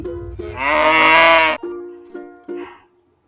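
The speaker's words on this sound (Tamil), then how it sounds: "பஃபலோ எருமை" A single long, deep moo from a water buffalo, loud and close, followed by a few shorter grunting calls.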